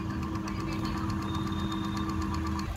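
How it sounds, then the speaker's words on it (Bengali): A Crompton ceiling fan running on a test hookup wired in series with a 200-watt bulb, giving a steady close motor hum with a faint rhythmic mechanical ticking and no voices. "এই ফ্যানটা টেস্ট করছি আমি এখানে।"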